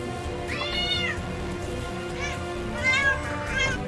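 A cat meows several times, rising and falling cries in two bursts, fairly close, while a person talks softly in the background.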